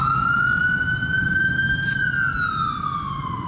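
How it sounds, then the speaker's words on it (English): An ambulance siren in Southampton wails loudly and steadily as it passes close by, its pitch holding high and then sliding lower as it moves away, with traffic rumbling underneath. "that is an ambulance"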